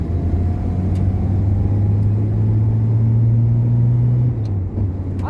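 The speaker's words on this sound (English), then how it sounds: "there is a car." A car drives along a road, a loud steady engine rumble with a low droning hum that rises slightly in pitch before easing off near the end, no voices over it.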